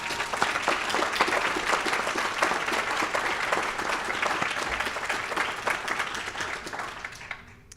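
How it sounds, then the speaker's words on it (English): Audience applause at a school's annual address, many hands clapping steadily and fairly close for several seconds before tapering off at the end. "A round of applause, please."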